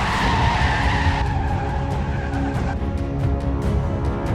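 A car's tires skid in an accident scene from a TV drama. A loud, sustained screech of rubber sounds alongside a vehicle's roar, steady and intense for several seconds with no talking.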